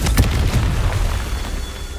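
A Confringo fire spell bursting in Hogwarts Legacy: a booming explosion with a sharp onset, then a rumbling low decay that fades over about two seconds.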